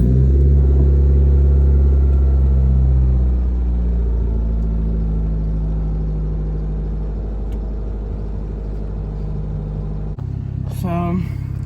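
A Honda Civic EJ6 engine idles with a steady low rumble close to the microphone, constant and alone, before a sudden cut near the end and a brief burst of other sound.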